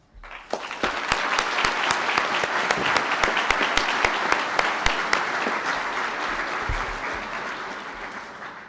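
A hotel school graduation ceremony audience breaks into sustained applause for the graduates, with many hands clapping loudly and continuously, then slowly tapering off.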